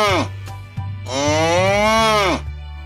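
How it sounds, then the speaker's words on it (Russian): A cartoon cow lets out a loud, drawn-out moo over light background music in a children's learning song, after a shorter low call. "Корова."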